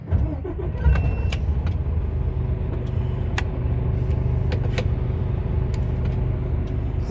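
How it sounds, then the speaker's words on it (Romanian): A Mercedes Actros truck engine starts from inside the cab: a short cranking burst catches into a steady diesel idle, with scattered clicks from the cab controls over the hum. "Cred că trebuie porni motorul."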